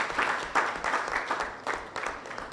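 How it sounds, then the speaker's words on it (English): An audience at a public evening talk applauds in a steady, moderately distant wash of clapping that swells and dips slightly for a couple of seconds. "I think that we all deserve a round of applause"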